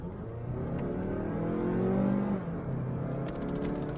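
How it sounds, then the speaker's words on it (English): A car engine hums and gently revs while driving, heard from inside the cabin as a steady mid-level drone that swells briefly and then settles. "I'm in my car, so there's a chance that you'll hear the car's engine."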